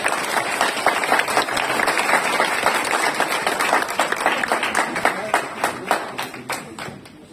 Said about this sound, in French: Qu'on l'applaudisse tous.